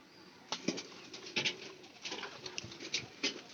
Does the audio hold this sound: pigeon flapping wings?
yes